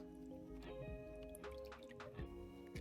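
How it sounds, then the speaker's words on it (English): Wet chocolate cake batter ingredients are poured all at once into the dry ingredients, giving soft, faint dripping and liquid splashes with a few small plops over a quiet kitchen background. "Pouring everything at once."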